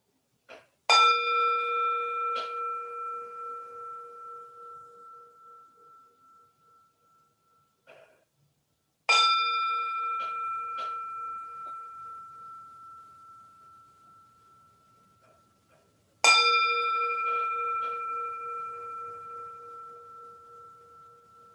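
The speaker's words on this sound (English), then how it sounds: "Now let's listen to the sounds of the bell." A meditation bell rings three times during a livestreamed meditation session, each clear tone struck alone and left to ring out slowly into silence, with a faint softer tap between the first two strikes.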